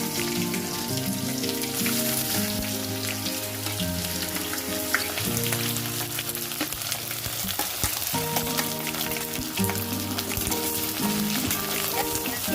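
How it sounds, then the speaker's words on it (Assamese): Onions sizzle steadily in hot oil, a dense crackling hiss that fills the whole stretch without pause and with no voices. "মই অলপমান ভাজি ল'ম ৰঙচুৱাকৈ।"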